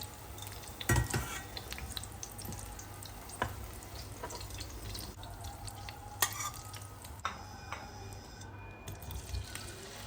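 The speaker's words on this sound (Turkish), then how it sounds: "Ardından yavaş yavaş bu şekilde ara ara karıştırarak soğanların tamamen karamelize olup altın sarısı rengini almasını bekledim." Onions caramelizing in butter, a low steady sizzle broken by occasional scraping and clicking strokes of a stirring utensil, close and fairly quiet.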